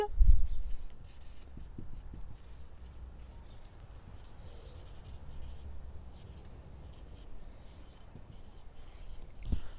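A pen scratching out a handwritten sentence in French on paper, a soft steady rubbing stroke that runs on close and quiet, with a heavier tap at the start and end and no speech.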